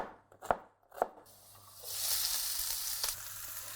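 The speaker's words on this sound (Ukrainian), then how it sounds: "бистро шинкуємо цибульку" An onion is quickly chopped on a cutting board, two sharp knife chops close up, then a rising sizzle of garlic frying in vegetable oil takes over, with one more soft knock.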